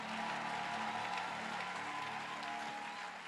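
Congregation applauding and acclaiming during a French-language church worship service, a steady, dense wash of clapping filling the whole moment without pause.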